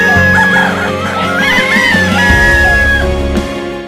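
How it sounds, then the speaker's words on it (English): A rooster crows on a farm around dawn, a loud, close call with harmonic rises and falls that repeats over a few seconds, with clucking mixed in. "The rooster crowed and kept crowing well past dawn."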